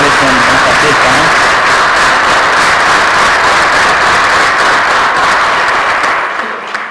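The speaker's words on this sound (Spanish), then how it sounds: "quiero brindarles entre todos un fuerte aplauso" A crowd at an institution's 50th anniversary celebration breaks into strong applause for the doctors: loud, dense clapping blended with crowd noise and voices, dropping away abruptly at the very end.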